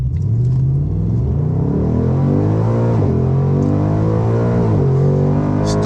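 A Ford Mustang Mach 1 driven hard on a racetrack, its engine climbing in pitch with each gear, broken by quick shifts near the three- and five-second marks, loud and continuous from inside the car.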